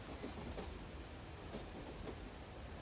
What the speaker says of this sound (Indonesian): Lalu mereka pergi naik kereta menuju tempat persembunyian yang baru